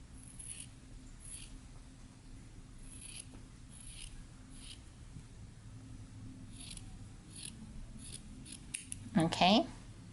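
Scissors snipping through T-shirt sleeve fabric, a series of soft, close cutting strokes at a steady pace, ending in a louder burst of crisp snips.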